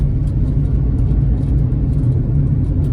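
Cars overtaking on a road, a loud, close, continuous low engine rumble and tyre roar.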